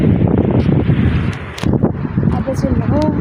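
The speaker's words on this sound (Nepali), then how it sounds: "हवा पुरा आउँदैछ।" Strong outdoor wind buffets the microphone with rumbling gusts while a person talks over it throughout.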